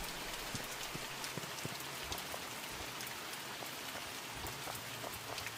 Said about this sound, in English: Oh, it's the rain.